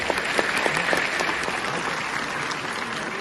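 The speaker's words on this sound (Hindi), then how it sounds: "समाज को उस निवेदन है कि जोरदार तालियों से स्वागत करें" Strong, sustained applause from an audience welcoming a speaker at a Satnami community oath-taking ceremony in Chhattisgarh, a dense, even crowd clap that carries throughout.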